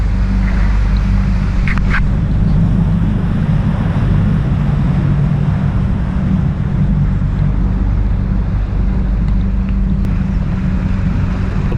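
A motorboat with its prop trimmed up idles slowly through a shallow, murky channel about three feet deep on Lake Leelanau in northern Michigan, giving a steady, loud low engine drone with wind noise throughout and no talking.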